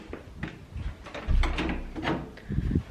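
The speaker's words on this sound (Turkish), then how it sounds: "Şimdi buranın kapısını kapatıyorum." A door inside a home swings shut with a string of mechanical clicks and rattles from the handle and latch, followed by firmer knocks as it closes.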